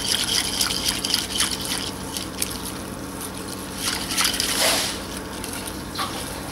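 Gelatin granules stirred steadily into a liquid mixture for crema de fruta, with continuous wet swishing and faint clinks of the utensil against the bowl at close range.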